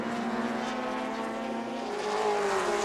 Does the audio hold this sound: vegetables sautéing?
no